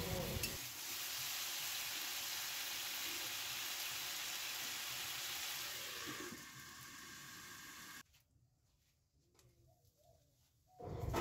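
Vegetables sizzle steadily in a hot pan while being stirred for about six seconds, then the frying drops to a faint quiet hiss before a stir or lid clatter returns at the end.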